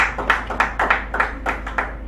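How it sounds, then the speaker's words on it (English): A live crowd at an ambassador meet-up claps in a steady, fairly close applause, with sharp hand claps spaced evenly and no one talking over it. "A round of applause for that."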